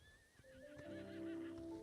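A horse in Star Stable Online gives a clear, close whinny with a wavering high call that settles into a sustained tonal neigh lasting about a second and a half.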